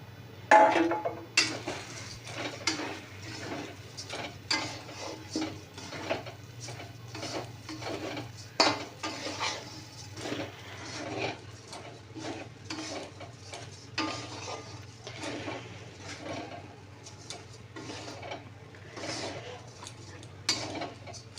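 Gobindobhog rice stirred in a pot for prawn pulao, a steady run of soft scraping and light metallic clinks with a faint sizzle underneath, fairly quiet and continuous throughout.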